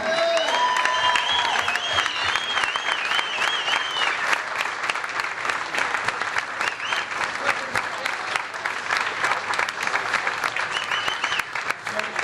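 A large audience breaks into sustained, loud applause as an ovation for a winner, steady dense clapping with a few cheers, continuing throughout without a break.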